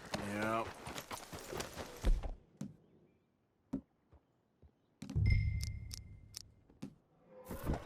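Horse hooves clip-clop in the video game Red Dead Redemption 2, a few sparse, distinct clops between stretches of conversation, with people talking before and after.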